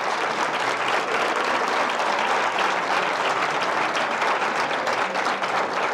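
An audience applauds at the close of a lecture on Renaissance art in Albacete, a loud, sustained wash of many hands clapping evenly throughout.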